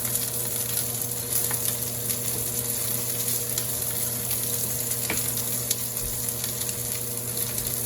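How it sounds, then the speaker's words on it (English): Pork chops seasoned with salt, garlic, rosemary and pepper searing in a hot pan, a steady close sizzle and crackle running alone without a break. "I think that's a nice sear, you guys"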